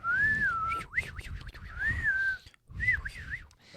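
A person whistles an imitation of birdsong, with rising, falling and warbling phrases broken by a short pause, close and fairly soft.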